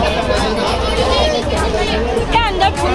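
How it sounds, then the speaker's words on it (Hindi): A crowd of pilgrims mills around the main gate of Gangotri temple, a steady murmur of many voices with a nearby person talking over the babble. "यहाँ पर लगी हुई है भीड़"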